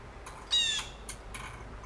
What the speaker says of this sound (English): The blue jay.